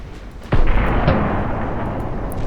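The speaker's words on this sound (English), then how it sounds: "is that enemy on enemy torpedo hits? Or was that my own torpedoes?" A sudden heavy blast of torpedo hits on warships in a naval battle game, starting abruptly and rolling into a loud, sustained rumbling boom.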